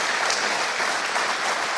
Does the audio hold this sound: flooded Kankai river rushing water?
no